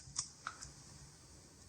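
A few faint, scattered key clicks from typing on a computer keyboard, quiet and sparse over soft background hiss.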